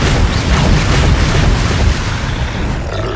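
Bombarda and Confringo explosion spells in the Hogwarts Legacy video game: a continuous run of loud, heavy booming blasts that overlap into a dense rumbling barrage, slightly easing toward the end, with no voices.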